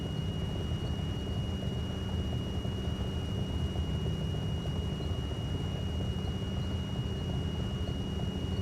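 A steady warning tone sounds continuously over the constant drone of a DHC-2 Beaver's engine in Microsoft Flight Simulator 2020, the stall horn holding unbroken as the floatplane approaches a stall.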